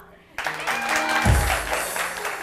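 An audience applauds at a weekend show, a steady spread of clapping that rises mid-way and continues under a talking voice.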